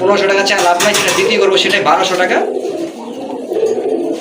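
Pigeons kept for breeding coo in soft repeated throaty rolls close by, while someone talks steadily over them for most of the moment.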